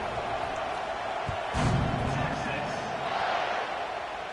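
Stadium crowd in a college football video game, a steady broad roar filling the background with a brief swell near the middle, carried under a game commentator's talk.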